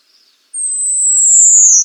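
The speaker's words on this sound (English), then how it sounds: "Generally, the Hume's warbler sings a descending, high-pitched zwee-oo," A single high, thin descending whistle from a Hume's warbler in Kathmandu, clear and fairly loud, sliding gradually downward for over a second against otherwise quiet surroundings.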